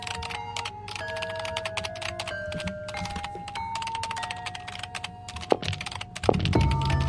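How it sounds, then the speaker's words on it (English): Rapid keyboard typing clatters on through a scene in the Amayado Bus Stop horror game, steady and close, with a faint tonal hum beneath and a few heavier thunks near the end. "Wasn't that typing?"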